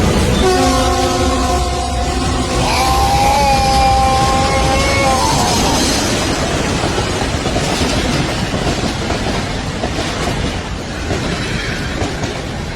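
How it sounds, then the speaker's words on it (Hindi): A loud train horn blasts for several seconds, then the train rumbles past with rushing wheel noise that slowly fades. "ट्रेन हॉर्न मारती हुई बिल्कुल ऐसा लगा जैसे अतुल के ऊपर से गुजरती हुई चली गई"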